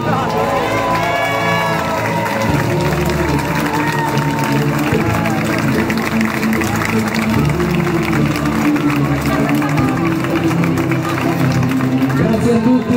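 An audience applauds for Mariangela at an Italian evening event, a steady wash of clapping mixed with crowd noise and some voices that carries on for the whole stretch.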